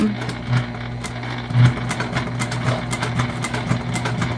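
Close, steady whirr of a sewing machine stitching a tote bag seam beside a rolled handle, running continuously for a few seconds with small clicks and no talking.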